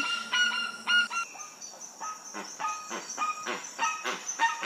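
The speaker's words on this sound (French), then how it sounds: "Alors Camila, l'oiseau que vous avez entendu, le gros oiseau noir, là" A crested guan, a large black bird with a soft red throat, calling in tropical forest: a series of loud, harsh honking calls repeated in uneven bursts, close and clear.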